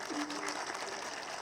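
A crowd at an election rally in Samba claps in a dense, sustained burst of applause that carries across the whole moment, with a brief voice at the start.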